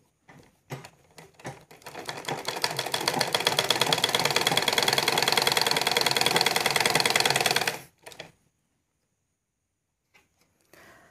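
A sewing machine stitches elastic onto a salwar in one continuous rapid run of several seconds, rattling loudly and rhythmically, framed by a few short clicks and bursts before and after.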